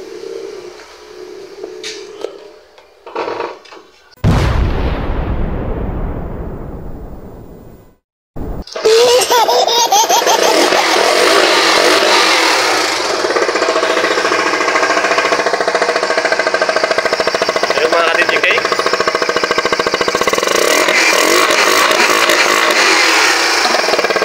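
A Yamaha SZ-R motorcycle with a misfiring, sputtering engine and weak pull gives a few rough, uneven bursts, cuts out briefly, then revs hard in a long, loud, harsh roar close by.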